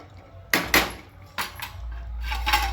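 A lid clatters onto a cooking pot of potato bhaji made with crushed peanuts, giving a few close metallic clinks and knocks in quick succession, followed by quieter handling clatter.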